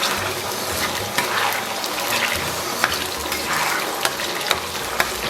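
Yingkou soybean paste sizzles and hisses in a hot wok as it is stir-fried, with a steady frying crackle and occasional light clicks of a spatula against the pan, fairly quiet and with no voices.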